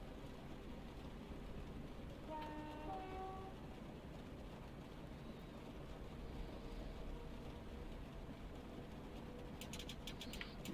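A Class 375 electric train runs from Gravesend to Tonbridge in Train Simulator Classic, giving a faint, steady rumble of motor and wheels with brief tonal whines partway through and light clicking near the end.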